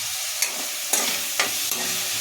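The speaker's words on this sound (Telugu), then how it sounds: "బాగా తిప్పేసుకోవాలి" Onion and tomato with salt and turmeric being stirred in a frying pan: a soft continuous sizzle broken by four sharp spoon scrapes at a quick, uneven pace.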